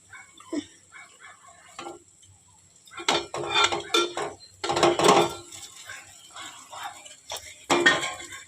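Pre-cooked Maggi noodles tossed with masala egg in a metal pan, irregular scraping and clinking bursts of a utensil against the pan, close and fairly loud between quiet gaps, with faint talk at the start.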